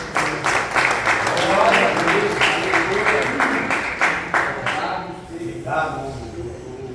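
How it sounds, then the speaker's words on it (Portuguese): A church congregation at a spiritual warfare seminar claps for the Lord, rhythmic, fairly close applause with voices mixed in, fading out toward the end as speech continues. "Aplauda o Senhor."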